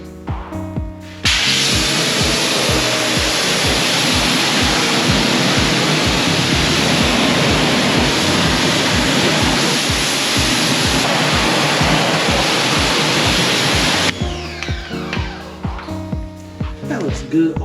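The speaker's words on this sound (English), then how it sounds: "rinse the wheel and brake system thoroughly with strong jet of water or high pressure" A strong water jet rinses a car wheel and brake system after wheel cleaner, a loud continuous rushing spray that cuts out briefly, then softer splashing and dripping at the end.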